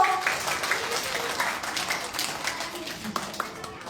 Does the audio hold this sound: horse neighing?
no